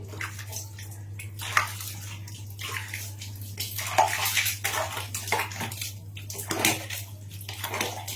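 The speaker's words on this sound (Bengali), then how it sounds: "হাতে পায়ে একটু সাবান দিয়ে নেবো আর জলটা ঢেলে নেবো" Water is poured over the body while bathing at home, splashing in irregular bursts of pours and drips, fairly close and moderately quiet, with a steady low hum underneath.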